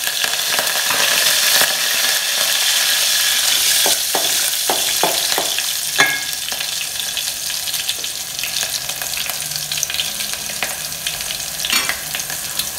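Green chillies and curry leaves fry in hot oil for Kolhapur-style masale bhat, a steady loud sizzle running throughout with a few sharp crackles and spatters, no voices.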